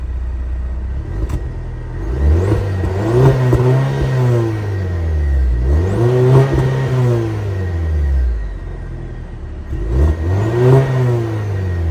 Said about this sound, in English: Nice diffuser with a quad tip exhaust, not a bad sound to come out of that either